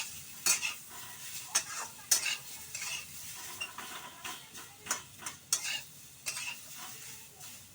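Turmeric-coated pumpkin slices fry lightly in a pan, with a soft sizzle broken by frequent sharp scrapes and clinks of a spatula stirring against the metal, close and irregular, with no voices.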